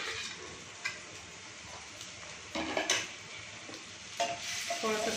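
Garlic and ginger sauté in a spoonful of oil in a frying pan, a soft continuous sizzle broken by several scraping stirs and spoon clinks, close and without talk.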